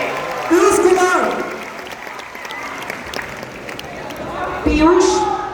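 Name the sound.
audience applause welcoming a gift recipient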